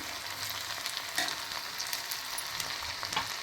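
Gobi (cauliflower) pieces frying in a little oil, a close steady sizzle with crackling pops and occasional stirring scrapes.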